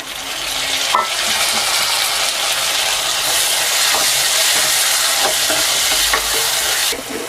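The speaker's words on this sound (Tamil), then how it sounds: "தக்காளி நல்லா வதங்கிட்டுருக்கு." Tomatoes sizzle and fry in a pan for vada curry, a dense continuous hiss with occasional clicks of stirring, loud and close throughout.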